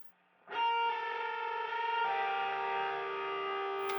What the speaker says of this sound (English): I interpreted it with a distant guitar